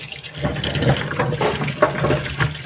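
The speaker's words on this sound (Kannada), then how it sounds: "ಇದನ್ನು ಸ್ವಲ್ಪ ನಾನೀಗ ತೊಳ್ಕೊಂಬಿಡ್ತೇನೆ, ನೀರು ಹಾಕಿ ತೊಳ್ಕೊಂಬಿಟ್ಟೆ" Water is poured over bitter gourd being washed, a close, uneven gush and splash of running water with small bursts of spatter.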